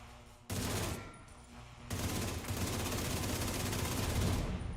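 Sustained automatic gunfire in The Division 2, a short burst followed by a brief pause and then a long continuous stream of rapid shots, loud and close.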